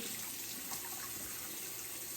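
Warm water runs steadily from a tap for washing the face, a continuous close, soft rush with no pauses and no talking.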